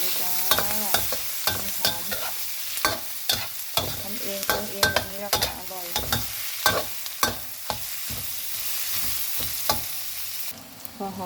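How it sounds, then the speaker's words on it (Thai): Shallots and garlic fry in oil while a utensil scrapes and stirs in quick, rhythmic strokes over a constant background sizzle, loud and near. "เจียวหอม เจียวกระเทียมกันต่อ"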